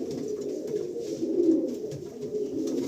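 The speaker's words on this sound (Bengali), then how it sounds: "আজকে তো দাদার ব্রিডিং সেটআপে আমরা কিছু পায়রা শখ করছি" Pigeons in an indoor breeding room coo continuously nearby, their low rumbling calls overlapping into a steady, fairly loud drone with no speech.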